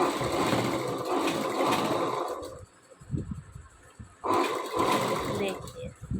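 A sewing machine stitches a kurti in loud, steady whirring runs, stopping for a couple of seconds in the middle before starting up again, close by, with someone talking over it.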